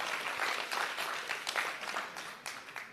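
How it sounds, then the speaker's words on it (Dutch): Applause from an audience at a Frisian-Dutch poetry event greeting a guest, many hands clapping at moderate loudness and gradually thinning and fading toward the end. "Applaus, mensen."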